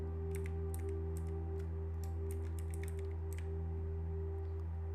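Keyboard keys tapped in short irregular bursts while a Windows registry value is typed into a computer, faint clicks over a steady low electrical hum with no one talking.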